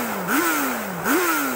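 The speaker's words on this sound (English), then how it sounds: "Go on, Chris, rev up your bike." Suzuki Hayabusa motorcycle engine revving twice at close range, each blip rising quickly in pitch and then falling slowly back toward idle.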